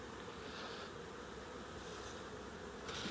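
Honeybees drone around hives being treated with amitraz against varroa mites in a warm autumn, a faint, continuous buzzing hum with no voices.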